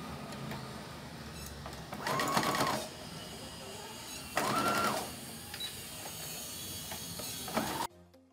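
A sewing machine runs in two short bursts of rapid mechanical stitching, about a second each, putting a small seam along the edge of leather bias binding, with quieter handling noise between the runs.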